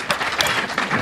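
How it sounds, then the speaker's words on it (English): Steady applause from an audience, a dense wash of many hands clapping at once, fairly loud and sustained for the whole moment. "Round of applause, maybe?"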